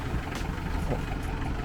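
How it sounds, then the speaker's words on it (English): Mahindra CJ500 Jeep engine idling roughly with a cylinder short on compression and misfiring, a steady low rumble close by with uneven texture throughout. "So this engine in its current condition is a very rough running engine."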